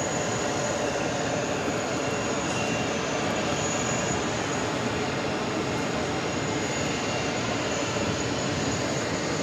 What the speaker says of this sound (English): JetBlue 577 heading off to Jacksonville, Florida on an A320